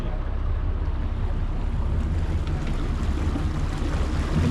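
Steady, loud low rumble of a little water taxi motoring across the bay from Coronado, engine hum blended with rushing water and wind noise, continuous and close with no voices.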